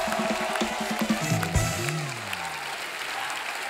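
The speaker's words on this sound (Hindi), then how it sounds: "आप सबकी जोरदार तालियों के बीच please welcome the very handsome, very talented mister Ranbir Kapoor and my bro अनुभव सिंह बस्सी।" Studio audience at a comedy talk show applauding a celebrity guest's entrance, a steady wash of clapping with a brief musical sting partway through.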